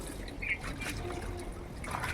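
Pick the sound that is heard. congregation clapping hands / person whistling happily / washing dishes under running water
washing dishes under running water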